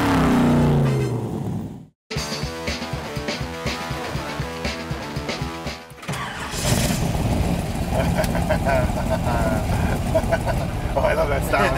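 A 720 hp 1939 Ford hot rod with a 4,200 rpm stall converter revs hard, its loud engine roar cutting out briefly, then surging back steady and strong, with excited voices talking over it.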